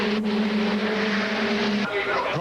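GT race cars of the 1999 FIA GT season at Monza, a Viper among them, scream past with a sustained high-revving engine note that drops suddenly as they go by, under continuous commentary.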